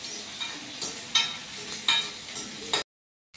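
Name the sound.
onions and tomatoes frying for mutton gravy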